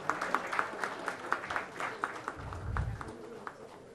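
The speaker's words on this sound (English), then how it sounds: "A huge round of applause." Scattered, fairly faint clapping from a small audience after a retail panel discussion, individual claps audible in an uneven rhythm with a low murmur underneath.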